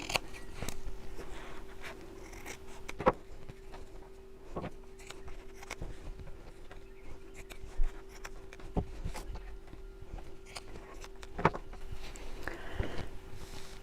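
Scissors snip through the outer fabric of a large sewn tote bag at each bottom corner, producing a few faint, scattered cuts and rustles against a steady low background hum.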